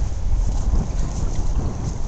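Small boat out halibut fishing on a rough sea with huge waves, cold wind and rain: steady loud roar of wind buffeting the microphone over deep, churning water noise, continuous and close with no talk.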